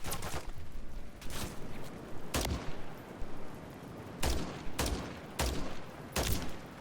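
Gunfire from the Modern Warfare III campaign on Xbox Series X: a rapid series of loud, sharp shots in irregular bursts, with about eight heavy reports standing out over a busy background of game noise.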